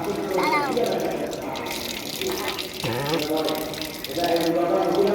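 A running tap splashing into a basin while someone rinses water through the nose, a steady watery gush near by with voices talking over it.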